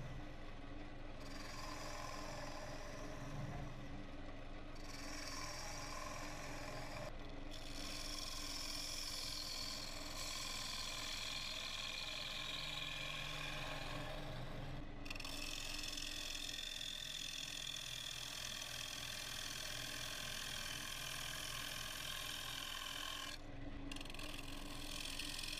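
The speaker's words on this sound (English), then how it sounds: "Then it's just a case of hollowing out the centre," A sycamore bowl being hollowed out on a wood lathe, a steady rough hissing scrape of the cutting tool against spinning wood that runs continuously, with brief pauses as the tool is lifted away.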